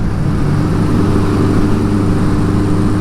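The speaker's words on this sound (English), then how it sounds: "just get out here and listen to the engine sounds" Old motorcycle engine running during a ride, a loud, steady low droning rumble with constant throb and wind noise throughout, no voices.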